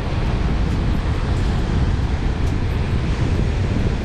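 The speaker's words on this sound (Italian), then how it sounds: "in attesa magari che cali un po' questo vento" Strong wind blows across a sea shore during surfcasting, a steady, loud broadband roar that holds for the whole stretch without pauses, with a low surf wash mixed in.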